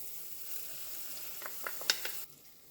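Ground meat with chunky salsa simmers in a pan, a faint, soft sizzle with a few quick clicks and stirring scrapes near the end before the sound suddenly drops away.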